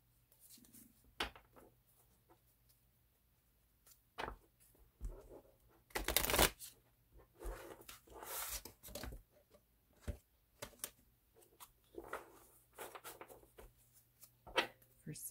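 Tarot cards being shuffled by hand during a Sagittarius reading: repeated riffling and sliding bursts, with louder crisp riffles midway, close and fairly loud over a steady low hum.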